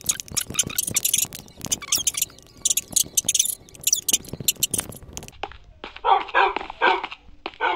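Dog barking in Minecraft, a quick run of sharp game barks and yips repeating close and loud, then a denser burst of higher-pitched yelps near the end, with no talking.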